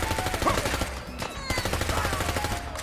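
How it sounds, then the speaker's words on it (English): MP5 submachine gun fire in Fallout 4 inside confined interior spaces, a steady stream of rapid shots with a bright metallic ring against a busy, reverberant backdrop. "Just a bit of gratuitous MP5 fighting for you guys, because it's just glorious."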